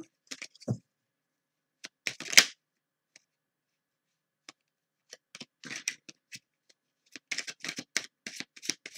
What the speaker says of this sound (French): Faut que je batte mes cartes moins fort.